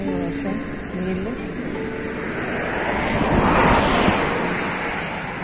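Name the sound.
rainwater flowing at Gandipet lake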